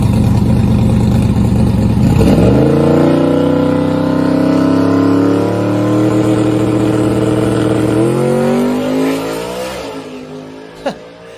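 A drag race car with its turbo boost turned up launches and pulls hard down the strip, engine roar climbing steadily in pitch. It stays loud and close, then fades away into the distance, with a brief sharp crack near the end.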